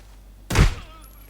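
A single loud gunshot blast in the video game Arena Breakout, sharp and punchy with a brief decaying tail, standing alone against quiet background.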